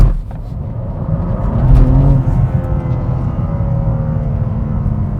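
A manual car launching hard off a dumped clutch, its engine roaring loudly up through the revs with brief wheel spin as it pulls away, heard close and steady with no talking.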